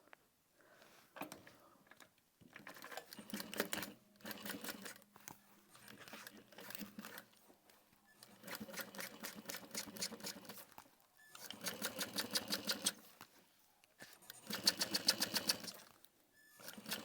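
A sewing machine topstitching a clear vinyl wristlet, running in several separate bursts of rapid mechanical stitching, with pauses and soft handling rustles of the material between them, close and fairly quiet, no talking.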